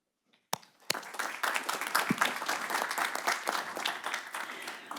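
An audience at a college board of trustees meeting breaks into applause for veteran students, starting with a few sharp claps and swelling into steady, full clapping from the room.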